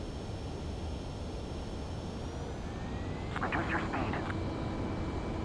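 An F-104C Starfighter jet in Ace Combat 7 on its landing approach to a runway, heard as a steady, loud engine roar that fills the whole clip, with a radio voice speaking briefly over it.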